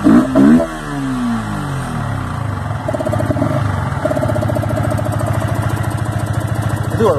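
A Yamaha motorcycle fitted with an aftermarket filter revs loudly up close. The engine note climbs and falls in repeated sweeps, then settles into a steady, buzzing run with a fast pulsing rhythm.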